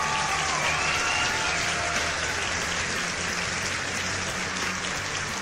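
A stream cheer sound effect plays as a steady wash of crowd applause and cheering, dense and loud, holding at an even level for about five seconds with no pauses.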